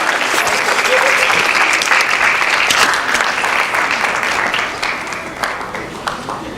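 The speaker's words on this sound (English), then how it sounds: "Let's give a round of applause to our contestants" An audience at a college campaign event in Iowa applauds the contestants, a dense, loud wash of many hands clapping that holds steady before gradually thinning toward the end.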